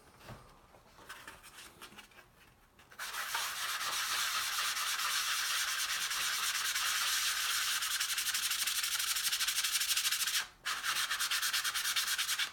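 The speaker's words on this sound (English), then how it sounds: "just a magic eraser, keep it dry, and it will actually come right off" A dry magic eraser scrubs store markings off a shoe sole. A few soft scuffs come first, then a loud, steady rubbing that runs for several seconds with one brief pause, and no one talks.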